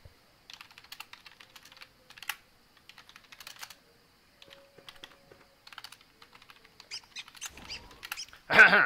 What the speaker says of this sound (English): Sorry, you didn't hear any of that typing.